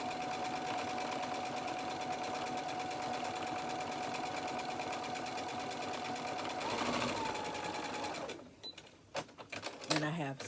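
A workhorse sewing machine from around 2003 hums in a steady, rapid stitching run, then stops abruptly, leaving a few clicks and handling knocks.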